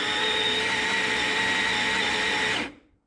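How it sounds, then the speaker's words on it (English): A Baratza Sette 270 grinder grinds roughly 17 grams of coffee beans with a loud, steady, close whir that holds for over two seconds, then cuts off sharply into silence. "Really like this grinder, nice fluffy grinds there."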